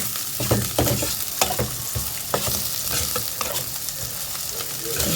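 Onions for salmon miso sinigang are stirred as they sizzle in a pot, giving a close, steady frying hiss broken by scraping stirs and light clinks. No talking is heard.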